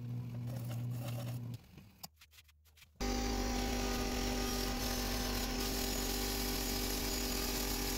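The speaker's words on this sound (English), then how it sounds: "I'm just going to do a little shear scraping to clean up some of the tool marks" A wood lathe spins a large live-edge sissoo bowl while a shear scraper works the surface, giving a steady hum, a brief dip with scattered scrapes, then a louder, broadband continuous scraping roar.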